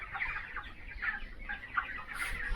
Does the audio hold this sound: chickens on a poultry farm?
yes